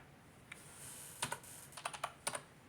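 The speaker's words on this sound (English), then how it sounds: "We'll just type something in here." Light clicking keystrokes on a computer keyboard, a short irregular burst of quiet taps close by with no talk.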